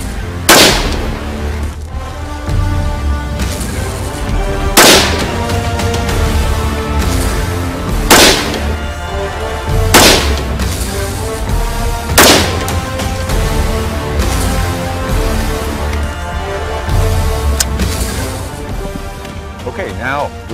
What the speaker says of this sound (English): So let's go ahead and fire the weapon unsuppressed.